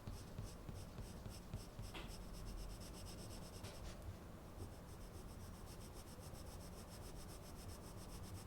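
An Irojiten colored pencil, a hard and slightly dry lead, coloring on paper in a flower drawing, giving continuous close scratchy rubbing strokes in a steady back-and-forth rhythm with no voices.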